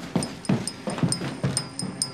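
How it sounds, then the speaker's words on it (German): A dog whimpers and yips in a rhythmic series of short, close, fairly loud cries at a domestic house and garden, one about every half second, with no other voices. "Was ist das für ein Hund?"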